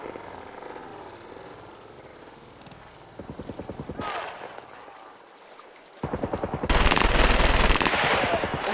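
Automatic weapon fire in a video game, heard as short rapid bursts that come twice, the second louder and longer, over game sounds and voices talking.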